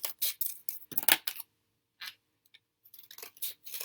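Scissors snipping through a paper board for a kumihimo craft project, a series of close, crisp cutting clicks in quick irregular bursts with brief pauses between them.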